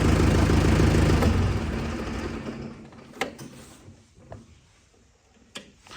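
A loud, rumbling tractor engine winds down and fades to quiet over a few seconds, followed by a few faint clicks and knocks.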